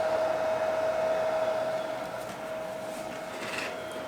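A helmet-mounted air conditioner unit runs with a steady, close whirring hiss and a faint constant tone, holding level for about four seconds with no talk.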